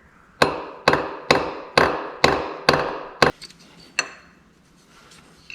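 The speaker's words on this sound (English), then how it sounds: "Take my hammer and tap that in there." A hammer taps a tool into a broken bolt. Six sharp metallic strikes land at an even pace, then one more comes after a short pause, each ringing briefly before it fades.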